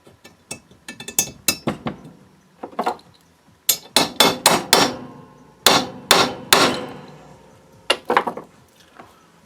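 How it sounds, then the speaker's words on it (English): A hammer taps a bearing into a Puch M4 two-speed moped engine case, quick clusters of sharp, ringing metal strikes separated by short pauses, close and clear. "It's always good just to give it a few taps with the hammer to be sure that it's completely seated"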